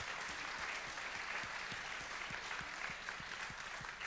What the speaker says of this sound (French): je voudrais qu'on les applaudisse vraiment tous les quatre